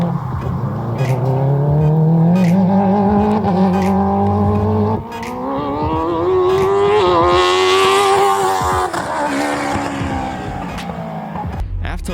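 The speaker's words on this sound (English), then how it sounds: "After lunch, I went out there and drifted some more." A Mazda Miata drifting on a race track, its engine droning loudly with rising and falling revs as the car swings through the turns, close and continuous.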